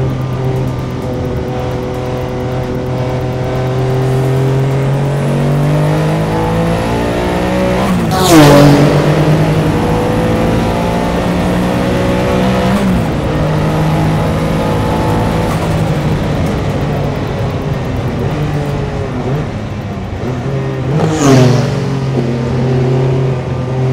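A Le Mans-winning Porsche 962 race car engine accelerating hard from inside the cockpit, loud and close, with a rising engine roar climbing through the gears and sharp drops at each upshift.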